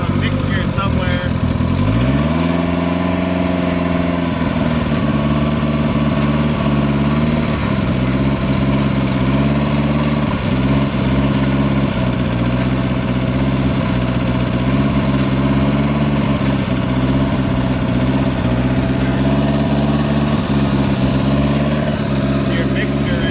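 An old NSU engine idles in a steady, throbbing mechanical drone. It is close and loud and runs without a break through the whole clip.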